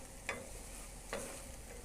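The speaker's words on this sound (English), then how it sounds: "now we're gonna put in our mangoes" Mangoes dropped into a frying pan with garlic for chicken mango habanero lollipops, a faint steady sizzle with two brief stirring scrapes.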